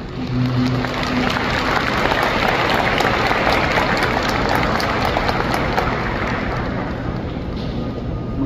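A convention-center audience at a book event applauding: a continuous, loud wash of many hands clapping at an even level, with no talking over it.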